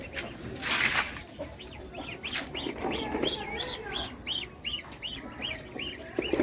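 Indian hens being set on eggs cluck in a quick, regular series of short calls, fairly close, with a voice talking underneath.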